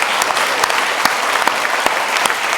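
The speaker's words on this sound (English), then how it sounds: "I would like to invite the audience to applaud." Steady applause from an audience at a literary talk, with dense hand clapping sustained throughout and a few sharper individual claps standing out.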